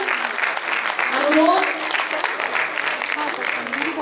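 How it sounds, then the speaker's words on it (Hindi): Applause from an audience at an agricultural science gathering in Uttar Pradesh, a steady broadband clatter of clapping that runs throughout with a voice speaking over it. "जोरदार तालियां आप सभी से।"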